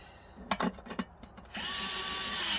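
A power drill drives screws into an electric unicycle motor, first a few short stuttering bursts, then a sustained rising whine at close range with no talk.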